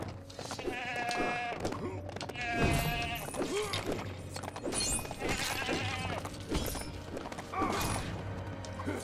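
Goats bleat repeatedly in the LEGO Hobbit video game, a series of loud wavering cries spaced across the stretch, mixed with game music and clattering effects.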